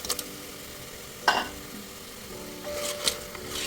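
Crab pieces go into a spiced pan and are stirred, giving a quiet, continuous sizzle broken by a few scraping clinks of utensil against the pan.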